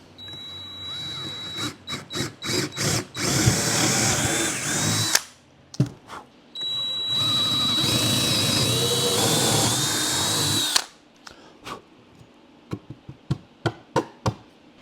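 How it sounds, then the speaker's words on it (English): A power drill whirs in short bursts, then two long sustained runs boring holes for a portable baseball pitching mound, followed by several quick trigger pulses. "So let's go ahead and drill those holes."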